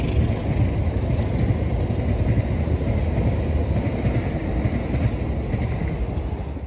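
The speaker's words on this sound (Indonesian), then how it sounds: "Selanjutnya akan segera merintas kereta api Progo, stasiun akhir Pasar Senen." Progo passenger train bound for Pasar Senen passing close by at a level crossing, a loud, continuous rumbling roar of wagons that holds steady throughout with no voices.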